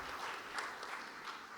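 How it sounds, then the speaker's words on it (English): Brief applause from a conference audience at a sustainability and technology session, a dense burst of many hands clapping together, fairly distant and steady. "Let's give her a round of applause."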